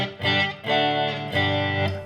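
An electric guitar played through a Behringer distortion pedal at medium-high gain, three thick sustained chords struck in turn, loud and close with no voice.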